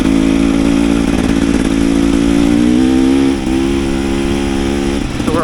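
A 2001 Yamaha YZ250F dirt bike engine with a flooding accelerator pump, running loud and close with a steady buzzy drone and slight wavering in pitch, alone without talk.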